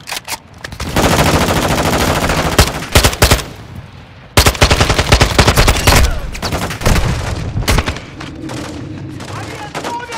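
Rapid bursts of automatic gunfire in Call of Duty: Modern Warfare II, loud and dense, with short pauses between volleys and a steady background rumble.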